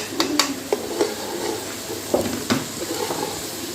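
A spoon stirs salt, red chilli powder, coriander powder and turmeric into masala in a pan for chicken karahi, giving a few close scraping clinks and soft shuffles with gentle sizzle beneath.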